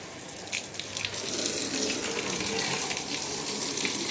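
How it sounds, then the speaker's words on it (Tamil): Water rushes hard from a motor-driven hose used for washing a car, swelling into a steady, forceful hiss that holds loud and continuous after a brief softer start, with no voices. "இப்போ நான் திறக்கிறேன் எவ்வளோ ஃபோர்ஸாக தண்ணி வரும் பாருங்க"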